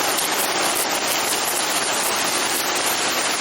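Heavy rain pours steadily, a dense, loud, unbroken wash of noise with water rushing down from a gutter pipe close by and no talk.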